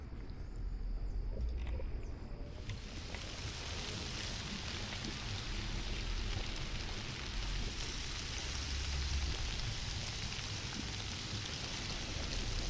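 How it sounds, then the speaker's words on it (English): Water splash in the Amerzone video game, heard as a sudden broad wash at about 2.5 seconds that settles into a steady, fairly loud rushing of water, like rain or a stream, continuing alone to the end. "Bit of a splash."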